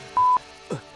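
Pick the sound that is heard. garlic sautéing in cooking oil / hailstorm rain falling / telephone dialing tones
telephone dialing tones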